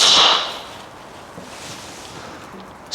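A Ping G440 or TaylorMade Qi35 golf driver strikes a ball, giving one sharp, bright, slightly tinny crack at the start, followed by a fading whoosh and near silence.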